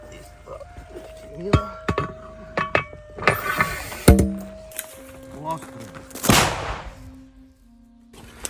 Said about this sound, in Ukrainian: На фоні чути канонаду іншої артилерії, як нашої, так і противника.